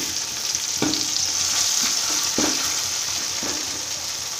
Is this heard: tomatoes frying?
yes